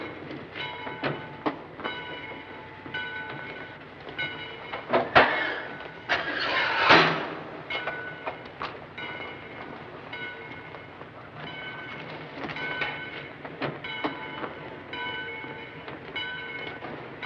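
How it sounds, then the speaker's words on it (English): A train rolls out of a station with a rhythmic clickety-clack of wheels over rail joints, metallic squeals and a louder surge of rumbling noise midway, set in a 1949 film. "Get in the train, Kelly."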